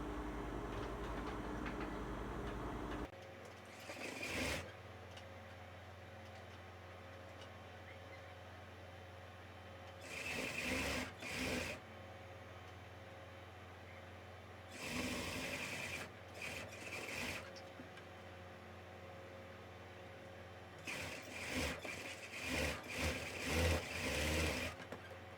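A sewing machine stitching a blouse lining runs in several short bursts of whirring, with a steady low hum between them and no talk.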